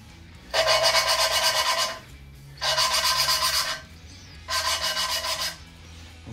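Three separate bursts of rough, gritty rubbing as an engine valve is lapped by hand with grinding compound in a Ford GT40 cylinder head, each about a second and a half, with brief quiet gaps.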